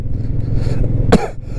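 A single short harsh cough from a traveller on a mountain pass as the weather turns bad, heard close over a low rumble of background engine noise.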